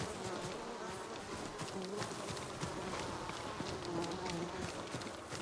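A continuous buzzing swarm of bees in the video game Ghost of Tsushima, dense and steady, filling the background without a break.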